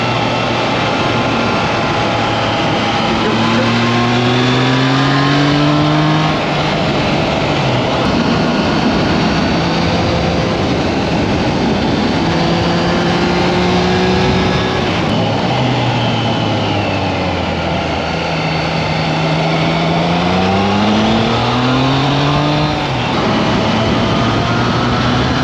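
A Triumph Trident 660 motorcycle is ridden fast along open roads, its engine note rising and falling steadily through gear changes under loud, constant wind roar, close and continuous throughout.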